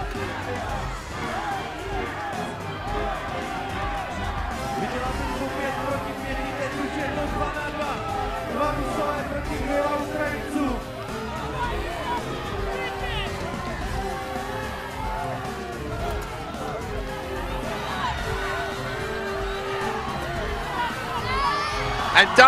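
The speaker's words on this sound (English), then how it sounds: "Just listen to the crowd in the stands here." Spectators in the stands at a Battle of the Nations armored fight roar and cheer steadily, a dense continuous crowd noise with a commentator talking over it.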